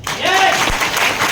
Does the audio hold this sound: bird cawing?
no